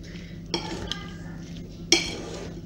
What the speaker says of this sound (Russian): И тщательно вымешиваем.